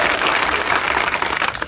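A rally crowd at a farmers' protest applauding, dense continuous clapping from many hands, loud and close, tapering slightly at the end.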